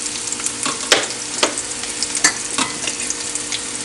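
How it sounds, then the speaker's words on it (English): Fenugreek seeds frying and being stirred in a pan for a green tomato and shrimp dish, a steady bright sizzle broken by several sharp scraping clicks of the utensil against the pan, with no voices. "Give that a stir."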